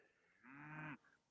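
A single low, drawn-out moo from a cow on a farm pasture, fairly close and clear, lasting about half a second, with a short faint call after it over quiet outdoor background.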